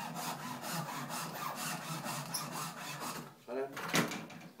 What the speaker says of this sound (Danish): Så saver vi her.